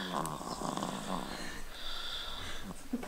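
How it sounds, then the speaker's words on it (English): A newborn baby snores softly and very close, a faint rhythmic breathy rasp under a quiet room hum, with no talking. "It's like a proper little snore."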